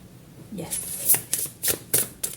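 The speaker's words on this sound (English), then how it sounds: "So let's shuffle the oracles." Oracle cards are shuffled close up in a run of crisp riffling bursts, about five distinct flicks spaced under a second apart, with a voice talking softly at the start.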